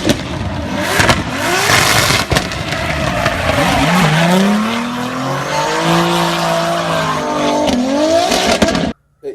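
Twin-turbo VQ42 V6 drift car engine with anti-lag roaring loud and close for about nine seconds, tires squealing in long rising and falling howls over the engine before it cuts off abruptly.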